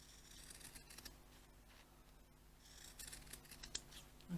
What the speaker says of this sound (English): Pinking shears or ordinary scissors, just cut round, leaving 1/8 of an inch,